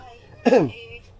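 A single short cough, close and fairly loud, lasting a fraction of a second amid quiet background.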